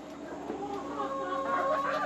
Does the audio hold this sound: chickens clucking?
yes